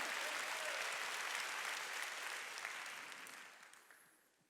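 Applause from a church congregation at a Korean Sunday worship service, thick and sustained at first, then gradually thinning and fading away toward the end.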